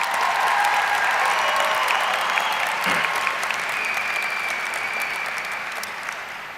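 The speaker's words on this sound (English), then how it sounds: "Can we get a round of applause for all the graduates real quick?" A crowd at the 2017 Coronado High School graduation ceremony gives the graduates a sustained round of applause, loud at first and easing slightly toward the end, with a faint tone lingering above the clapping.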